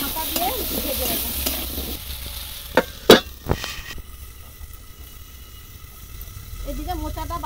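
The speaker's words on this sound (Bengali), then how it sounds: "এবার আলুটা ভালো করে ঢাকা দিয়ে ভেজে নেব।" Diced potatoes with salt and a little turmeric fry in a covered pan, a soft steady sizzle broken by a few sharp clattering knocks of utensil or lid near the middle, with someone talking over parts of it.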